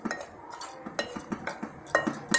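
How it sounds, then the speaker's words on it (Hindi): A spoon stirs semolina and gram flour batter in a bowl, making a quick, rhythmic run of light clinks and scrapes that is close and fairly quiet. "सूजी और बेसन को अच्छे से मिक्स कर देंगे"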